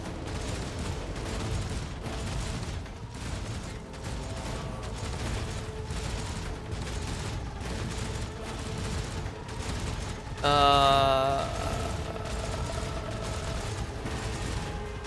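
Rapid bursts of distant gunfire crackle steadily over a vox radio in the video game Warhammer 40,000: Rogue Trader, with a brief electronic squeal partway through.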